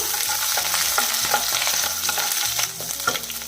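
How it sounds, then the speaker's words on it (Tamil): Curry leaves, garlic and green chilies sautéing in a pan for a ridge gourd dish, a steady close sizzle with stirring clatter and scraping running throughout, with no talk. "ஒரு நிமிஷம் இதை வதக்கிடலாம்"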